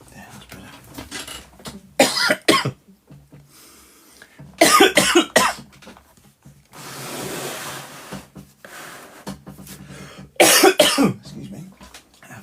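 Several separate bursts of coughing, close and fairly loud, with quiet pauses and a stretch of soft hiss between them.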